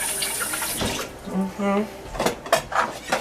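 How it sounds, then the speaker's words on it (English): Tap water runs and splashes over lemons being rinsed at a kitchen sink, in uneven gushes with a few light clatters, while a person talks over it. "I rinse out my lemons"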